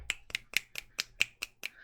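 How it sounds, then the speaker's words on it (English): Eight crisp finger snaps follow one another at an even, quick pace, sharp and close, with nothing else sounding between them, a quiet show of appreciation after a spoken haiku. "I don't know if you're supposed to snap with that type of poetry, but I'm snapping"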